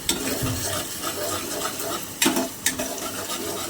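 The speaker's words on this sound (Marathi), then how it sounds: "टोमॅटो अगदी तेलामध्ये विरघळण्यापर्यंत भाजून घेऊया" Tomatoes frying in oil in a pan for a village-style mutton curry, giving a steady, close hissing sizzle with a couple of brief scraping stirs partway through.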